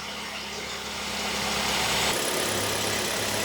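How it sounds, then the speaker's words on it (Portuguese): A Ford Focus engine idles steadily with a low, even hum, rising slightly in loudness partway through, with no voices over it. "Motorzão funcionando."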